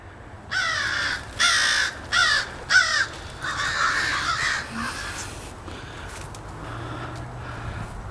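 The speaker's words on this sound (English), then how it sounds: "That's a big fucking bird." A large crow gives a run of loud, harsh caws outdoors, four or five in quick succession, then trails into fainter calls over a low background hum.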